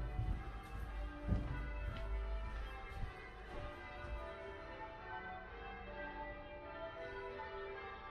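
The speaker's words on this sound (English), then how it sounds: "can you hear the bell" A church bell at St Martin-in-the-Fields rings out with resonant, overlapping tolls whose overtones linger and slowly fade, heard from some distance with no talking.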